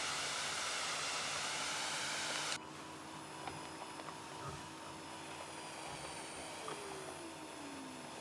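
Jetwing aircraft engine hovering in Microsoft Flight Simulator, a loud broadband jet roar that drops abruptly to a steadier, quieter whine with a faint falling tone near the end.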